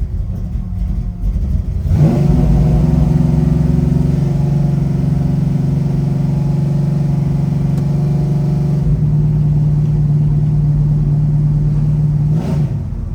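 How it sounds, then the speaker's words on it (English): A 572 crate motor in a 1971 Chevrolet Chevelle revs loud and close, a deep steady roar that swells after a short lull and holds its throaty drone before easing off near the end. "Doesn't that sound really nice? 60 pounds of oil pressure in the 572 crate motor."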